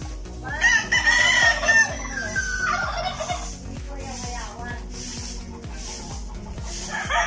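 Fighting roosters on a farm crow loudly and nearby, drawn-out calls overlapping, against a backdrop of rapid, regular rhythmic tapping and clucking fowl.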